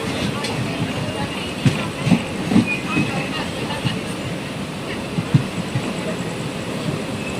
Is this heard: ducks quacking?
no